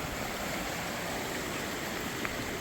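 A flooded creek, swollen to about four feet deep, rushes past in a loud, steady broadband roar of flowing water, close and continuous with no voices.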